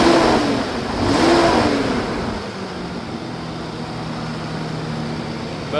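A 1995 Toyota T100 truck engine, undergoing a rebuild and smoking, idles and revs, rising briefly then settling into a steady, loud mechanical hum close by.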